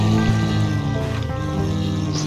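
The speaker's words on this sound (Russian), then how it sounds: "Звук, конечно, от движка серьезный." A heavy truck engine in the off-road driving game SnowRunner gives off a deep, steady, throbbing rumble. It holds at a constant loud level throughout, with faint wet, squelching texture layered over the low drone.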